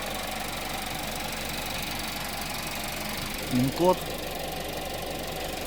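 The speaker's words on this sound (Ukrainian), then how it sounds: "Двигунчик працює рівнесенько" A 2021 Nissan Rogue with a 2.5-litre petrol engine idles steadily with a low, even rumble throughout, and a voice briefly speaks over it partway through.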